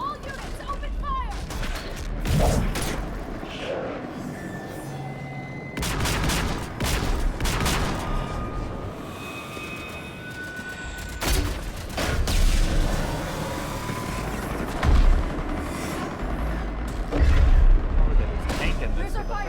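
Battle gunfire and booming explosions in the video game Mass Effect 3, a dense continuous fusillade with heavy blasts rolling through, shouted voices mixed in the din.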